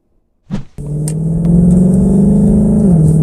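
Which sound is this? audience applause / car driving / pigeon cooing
car driving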